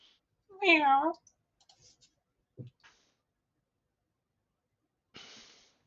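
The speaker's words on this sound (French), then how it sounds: "Il est pas possible, ce chat." A house cat gives one clear, close meow, followed by a few faint clicks and a soft breathy rustle in an otherwise quiet room.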